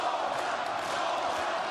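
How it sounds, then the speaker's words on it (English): Boxing arena crowd at the Pulev versus Chisora heavyweight bout cheering and roaring in a steady, dense wash of many voices, loud and continuous throughout with no distinct single shout standing out. "And the crowd rallying behind their man."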